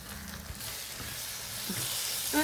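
Chili and coriander powder sauté in a hot pan for fish curry, giving a steady hiss and sizzle with a few faint stirring clinks.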